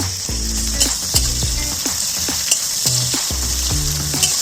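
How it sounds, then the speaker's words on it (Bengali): Onions sizzling steadily as they fry to a reddish brown in a home kitchen pan, with repeated scrapes and clinks of a spatula stirring them throughout, close and continuous. "পেঁয়াজটা লাল লাল করে ভাজা হয়ে গেছে"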